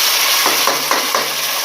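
Paste of three medium onions sizzling in hot ghee in a pan for chole, a steady loud hiss with a few soft stirring scrapes, close and alone.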